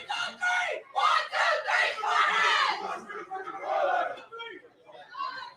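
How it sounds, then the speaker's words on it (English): A college sports crowd at a Big Ten gymnastics championship cheers and screams from across the arena in bursting, overlapping waves that rise and fall, loud and close, with a lull near the end. "you can hear the varied cheers from across the house"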